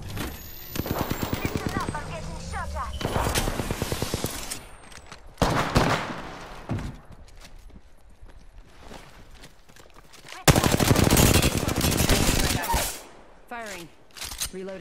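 Rapid automatic gunfire rattles in a shooter video game, loud bursts of closely spaced shots broken by quieter pauses and a few single reports, with voice chatter mixed in.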